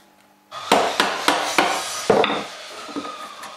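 Steel chisel struck into wood to cut a mortise for a rustic handmade bench, giving five sharp, evenly spaced knocks close by, then a few softer taps and scraping as the cut continues.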